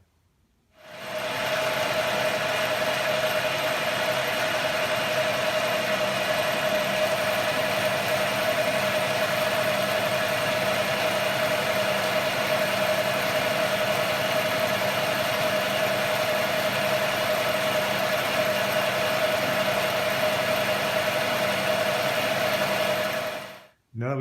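An old South Bend lathe runs continuously at steady speed for the whole stretch, with a constant mechanical hum and whine that starts and stops abruptly at the ends.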